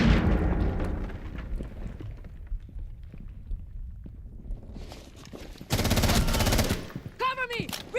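Rainbow Six Siege video game gunfire: a loud opening volley, a quieter stretch of scattered shots and footsteps, then another sharp automatic burst near the end.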